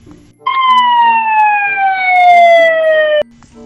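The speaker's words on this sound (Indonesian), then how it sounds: "Ini ada pemadam kebakaran." A toy fire truck sounds a loud electronic siren in one sustained falling wail of about three seconds that starts and stops abruptly, with faint background noise on either side.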